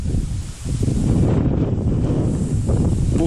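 Strong wind gusts buffeting the microphone beside a river during a September pike fishing trip, a steady roaring rush with a brief lull early on, loud and close throughout with no talking.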